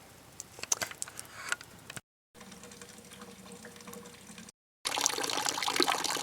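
A solar-powered well pump runs water into a bucket, giving a steady splashing fill that rises and falls in loudness. Two short silent gaps break the flow, and the last part is brighter and louder, with no voices.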